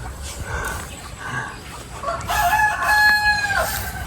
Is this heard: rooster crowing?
yes